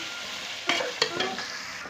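Ground garam masala spices (cardamom, cumin, coriander powder) being stirred by hand, a few distinct scraping strokes over a soft background hiss, close and clear with no talking.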